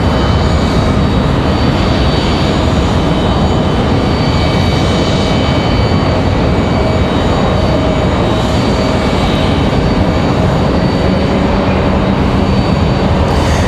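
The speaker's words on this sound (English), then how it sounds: "The Republic Airways touches down now." A Republic Airways airliner landing on a runway, heard as a steady, loud, broadband engine roar and rumble that stays constant throughout, with no talk.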